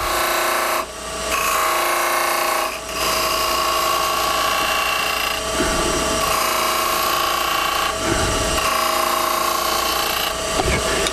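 Wood lathe with a cutting tool deepening beads in cheap pine that still has nail holes, giving a steady scraping whir with brief dips and catches as the tool is pulled back, continuous and close without any talk.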